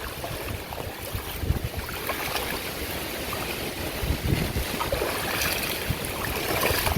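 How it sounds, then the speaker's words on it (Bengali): Floodwater rushes and churns across a house yard after Cyclone Remal, a steady broadband wash close by that grows slightly louder toward the end, with no voices. "বাড়ির উঠানে চারোদিকে পানি দেখেন এই যে পানি আসতেছে কিভাবে প্রচুর পানি"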